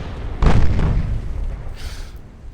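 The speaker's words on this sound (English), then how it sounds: "I'd rather keep all my guns angled towards the battleship for now. And sink her." Naval guns fire at a battleship in the Ultimate Admiral: Dreadnoughts naval battle game. A single heavy boom goes off, then a rumbling decay and a fainter burst follows.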